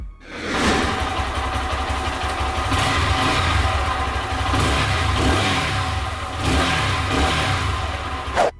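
A Lifan KPR 200 motorcycle with its stock exhaust revving in several bursts, the engine rising and falling between blips, fairly close but with a rather mild, subdued tone.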